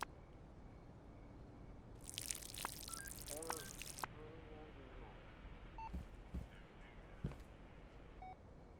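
Watering plants in the video game Schedule 1 gives a bright, hissing water pour lasting about two seconds, followed by a few soft digital clicks and beeps at a quiet level.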